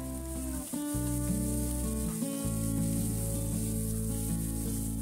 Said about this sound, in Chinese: 烹饪前还要用沸水焯过，蒜片爆香快炒，南瓜叶自然会味美鲜香